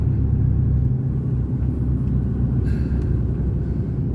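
A truck's engine idles with a steady, heavy low rumble while the vehicle sits stopped at a small signal on a freight run near the Germany–Denmark border, loud and continuous throughout.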